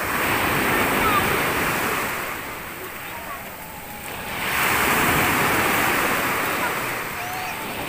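Ocean waves crash and wash in a steady roar that swells, eases, then builds again with the next breaker.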